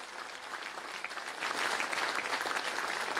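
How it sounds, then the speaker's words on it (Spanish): Audience applause at a swearing-in ceremony for a technical commission, a steady wash of many hands clapping at moderate distance that swells louder halfway through, with no voices. "Quiero que le demos un aplauso"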